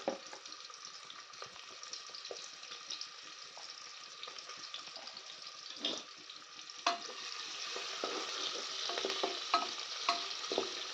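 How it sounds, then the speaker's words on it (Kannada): Chopped onions frying in hot oil in a kadai, stirred steadily, giving a continuous close sizzle with scraping and clattering stir strokes that grow slightly louder toward the end; no talking. "ನೆಕ್ಸ್ಟ್ ನಾವು ಕಟ್ ಮಾಡ್ಕೊಂಡಿರೋ ಈರುಳ್ಳಿನ ಬಾಣಲಿಗೆ ಹಾಕೋಣ"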